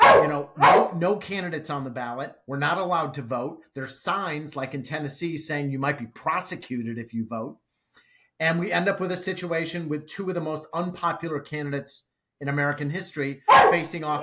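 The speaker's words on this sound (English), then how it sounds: "I'm sorry for my dog," A pet dog barks in short, excitable bursts indoors, mixed in beneath a man's steady, close talking throughout.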